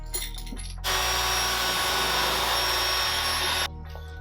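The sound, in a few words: power drill drilling a hole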